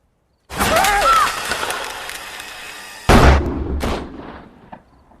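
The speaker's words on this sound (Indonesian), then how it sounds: "kakek sudah berada di depan pintu lalu menembaki mereka semua" In a film scene, a blind old veteran shoots at intruders at a house door. Loud close gunshots ring out, one near the start with a long reverberant decay, then another heavy blast, with a quick follow-up crack and fading echo.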